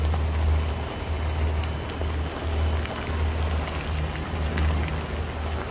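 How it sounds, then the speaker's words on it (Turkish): Heavy rain pours steadily onto a sailboat with its sails furled near the coast of Greece or Turkey, a dense continuous hiss of drops on deck and canvas, with a low rumbling undertone throughout. "Bayağı bir yağıyor yani."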